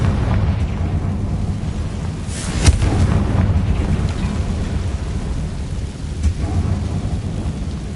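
Confringo blasting spell exploding in the video game Hogwarts Legacy, a deep rumbling boom with crackling that swells and lingers over a steady low roar, loud and close.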